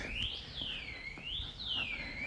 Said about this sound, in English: I just assumed that someone's car alarm is going off.